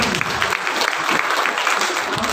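Steady, dense applause from an audience at a school principals' meeting, filling the whole stretch at an even, fairly loud level with no pauses.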